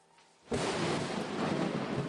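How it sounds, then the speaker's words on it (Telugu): After a brief quiet, thunder breaks suddenly into a loud crash that carries on as a sustained, heavy rumbling roar. "ఫస్ట్ మెరుపు కనిపించి తర్వాత ఉరుము ఎందుకు వినిపిస్తుంది?"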